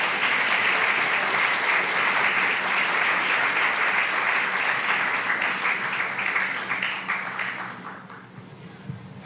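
Sustained audience applause at a New York screening and talkback event, a dense, steady wash of clapping from a full room that fades toward the end.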